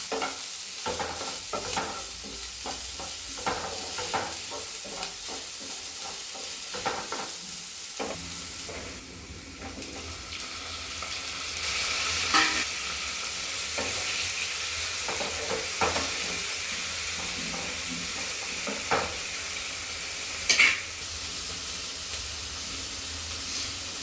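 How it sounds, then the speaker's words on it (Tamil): Onions, chilies, curry leaves and tomato sautéing in a pan for a bitter gourd stir-fry, a constant close sizzle broken by repeated spoon scrapes and stirring clatter. "வெங்காயம் கொஞ்சம் வதங்குவோம்."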